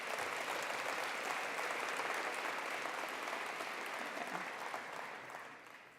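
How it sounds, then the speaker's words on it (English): Audience applause at a college address, a dense, even clapping from a sizable crowd that continues steadily before tapering off at the end. "Can we give them a round of applause?"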